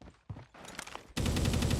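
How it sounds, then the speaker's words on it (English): Gunfire cracks in Call of Duty: Mobile DMZ, a few separate close shots followed by a loud, dense burst of rapid automatic fire. "Gunshot's pretty close by"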